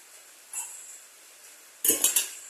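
A cooking pot of erissery curry is taken off the stove in a home kitchen, giving a faint metallic clink and then a quick cluster of three nearby metal clanks.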